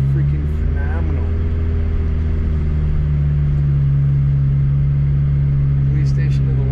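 A car creeps through deep snow at Big Bear, its engine a steady low hum close by with a faint scrunch of tyres, running unbroken throughout.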